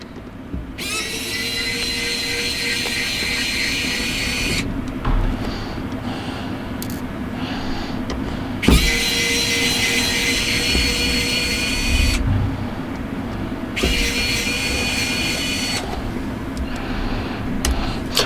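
Small screws being backed out of a Samsung Galaxy A52 4G phone with a steady electric screwdriver whir, in three long bursts separated by short pauses, heard close and alone over a faint room hum.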